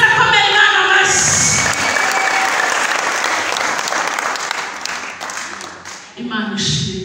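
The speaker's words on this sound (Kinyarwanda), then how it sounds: "komera Imana amashyi" A church congregation breaks into loud, sustained applause that swells, then gradually fades, with voices over the start and end of the clapping.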